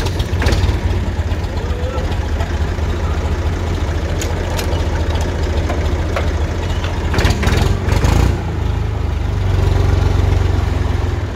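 A Massey Ferguson MF 135 tractor with a rebuilt injection pump idles close by, its steady, heavy low rumble running unbroken throughout, with a few sharp clicks and knocks on top.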